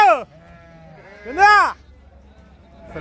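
Close sheep at a livestock market in Gudur bleat in short, wavering cries, three calls spaced apart with quiet between them.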